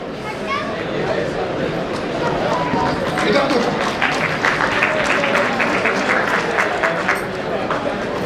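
Audience applause at a student merit award ceremony in Kanpur, a steady broad wash of clapping from a large crowd lasting throughout, with murmuring and voices mixed underneath.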